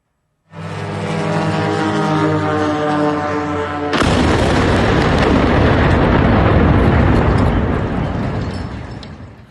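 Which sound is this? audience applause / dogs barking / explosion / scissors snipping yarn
explosion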